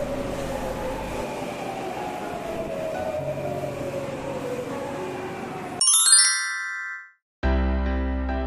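Train at a small suburban station platform in Setagaya, Tokyo, seen across from the opposite platform: steady rolling rumble, then a bright chime or bell-like tones near the end, with a brief pause before another loud burst.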